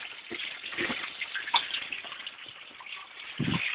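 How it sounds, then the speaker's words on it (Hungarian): Water pumped up through a submersible hose and flowing out onto a Miller gold table for recovering gold from scrap, heard as a steady close gushing wash of water with a few lower splashy surges and no talking. "Tehát a szivattyú felszívja a vizet."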